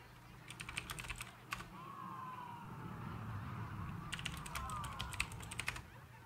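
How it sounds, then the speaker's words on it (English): Fast typing on a computer keyboard comes in two quick bursts of close, crisp key clicks, separated by a quieter stretch where a faint siren wails in the background. "Yeah, I'm a fast typer."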